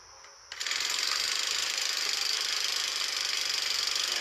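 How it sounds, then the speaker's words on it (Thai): A Honda backpack brush cutter's four-stroke engine starts up and runs abnormally loud, a harsh, steady, rapid mechanical rattle close by that holds a constant pitch after a short quiet moment. "ฟังเสียงนะเสียงผิดปกตินะ เสียงไม่สมเป็นกับเครื่อง สี่จังหวะเลยฮนะเสียงดังมาก"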